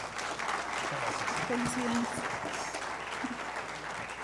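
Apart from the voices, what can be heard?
audience applause at a congress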